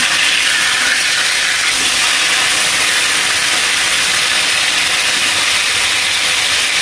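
Pieces of bhola fish fry in hot oil, a loud, steady, dense hiss close up that holds evenly throughout without pauses or talk.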